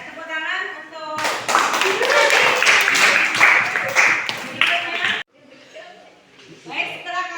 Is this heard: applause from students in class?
yes